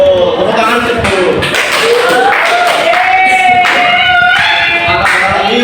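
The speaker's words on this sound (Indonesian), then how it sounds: "Tepuk tangan dulu." A fourth-grade elementary classroom of children clapping their hands in quick, rhythmic bursts, mixed with loud children's voices calling out and chanting close by.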